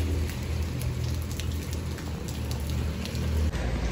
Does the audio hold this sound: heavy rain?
yes